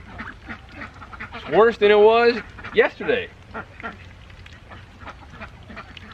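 Ducks quack a few times, close and fairly loud, in a wet, muddy farmyard during rain; a person talks over and between the calls.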